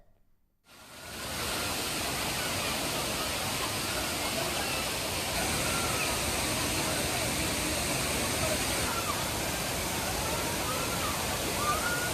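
The Thiruparappu waterfall roars as a dense, steady wash of falling water, loud and constant after a brief quiet start, with faint crowd voices mixed into the rush.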